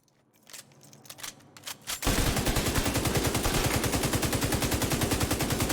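Sustained rapid gunfire from The Division 2, with scattered shots building over the first two seconds before a loud, continuous burst of automatic fire.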